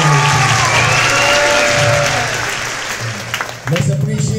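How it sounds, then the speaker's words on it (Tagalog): Loud, sustained applause from guests at a company Christmas party in 2024 fills the room, then thins out near the end as a voice begins speaking. "Palakpak muna natin sa kaibigan."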